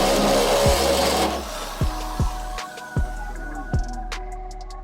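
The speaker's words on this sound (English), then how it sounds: "we're just going to use a step bit to make the hole bigger so that the strike can fit through it" Step bit enlarging a hole in a car hood for an AeroCatch hood latch, a steady grinding drill whine that cuts off, followed by several sharp knocks and lighter ringing clicks.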